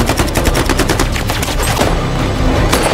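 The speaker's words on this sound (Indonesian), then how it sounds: "dan baku tembak pun kembali terjadi" Rapid automatic gunfire crackles in a film firefight between Taliban fighters and soldiers, loud dense bursts of repeated shots that fill the whole moment, with no speech.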